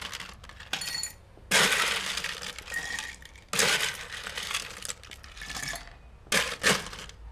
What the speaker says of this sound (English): So we're going to start out with building this cocktail over ice.